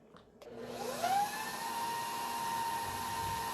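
Electric hand mixer beats keto cheesecake batter in a bowl, a steady high motor whine that rises in pitch as it spins up and then holds constant and fairly loud.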